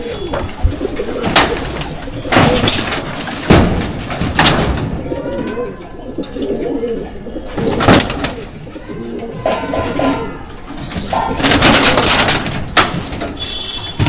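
Pigeons coo repeatedly in a busy loft where chicks are kept and sold, the soft calls layered with wing flutters, knocks and bursts of nearby speech.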